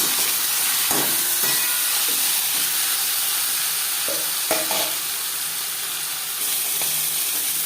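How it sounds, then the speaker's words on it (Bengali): Catla fish head frying in a small amount of refined oil in a home kitchen, a steady loud sizzle throughout with a few sharper crackles and stirring clanks, no talking. "মাছের মাথা ভাজবার জন্য দিয়ে দিয়েছি দু চামচ রিফাইন্ডারে অয়েল"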